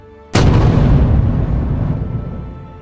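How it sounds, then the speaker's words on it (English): A single deep cannon blast from a warship booms across a bay, a sudden loud report that rolls on in a long fading rumble. "The warship had fired its cannon."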